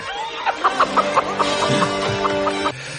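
Chicken clucking in the film Rambo: First Blood Part II, a run of short, close, fairly loud clucks repeating at an uneven pace for about three seconds, with no talk over it.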